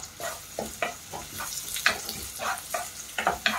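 Onion, garlic and ginger sauté in a pan with irregular stirring and scraping bursts over a soft, steady sizzle, close by with no voices.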